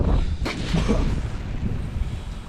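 A single deep artillery boom near the start, rumbling out under steady wind noise and low background roar, during fighting near Bakhmut.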